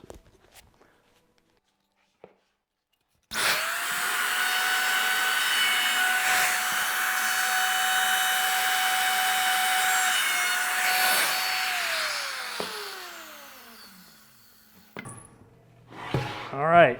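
A CNC router bit cuts wood for flat-pack studio monitor speaker panels, a loud, steady whining grind with a sustained tone that starts abruptly after a quiet lead-in, holds for about nine seconds, then winds down, with brief noises after.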